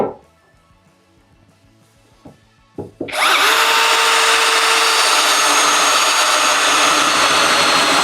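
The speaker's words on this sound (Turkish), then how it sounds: "Hazırsak deliyorum. Şöyle deleyeceğim bunu." An Assur cordless drill starts up after a few quiet clicks and runs steadily and loudly, a continuous high whir close by.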